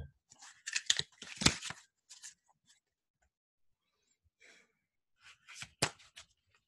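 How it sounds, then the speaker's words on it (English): A card is drawn from an 80-card tarot deck, giving close, dry shuffling and papery rustles in two short clusters separated by near silence. "And I will also draw a Qvantum Tarot card."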